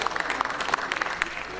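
Applause from the audience at a Hindi literary award ceremony, short scattered claps over a brief moment, fairly close and under an ongoing murmur of voices.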